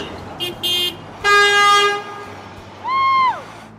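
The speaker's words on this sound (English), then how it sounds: "We're doing a Honk for Bernie event to get visibility" Car horns honk at a roadside Honk for Bernie rally in Plattsburgh: two short toots, then a long, loud blast and a final falling honk, with passing traffic underneath.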